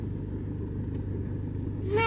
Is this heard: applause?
no